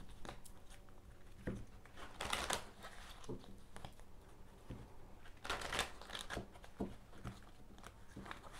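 Tarot cards riffled and shuffled in several quick bursts, crisp papery flutters with soft taps between, close by and fairly quiet.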